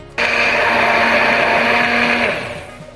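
A blender whirs loudly and steadily for almost the whole stretch, whipping an Algerian sauce with oil, then winds down and fades near the end.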